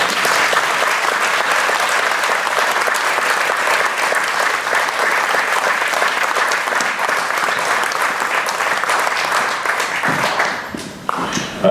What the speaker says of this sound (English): I think a round of applause at this point is definitely in order